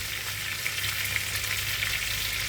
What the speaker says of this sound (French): Et toujours en laissant cuire la viande.